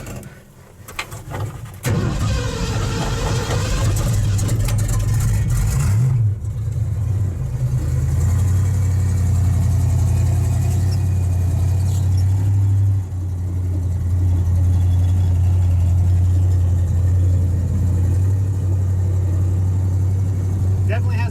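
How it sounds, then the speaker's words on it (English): Ford Ranchero engine starting and settling into a steady idle, a low, even drone with a brief rev early on, fairly loud and continuous, with a person talking over it at times. "definitely has a problem with idling until it warms up"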